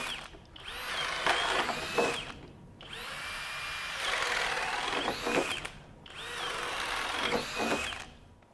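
A FLEX FXM202 24V hammer drill bores a 7/8 inch hole, whining loudly in three sustained bursts of about two seconds each, separated by short pauses, with a grinding bite into the material.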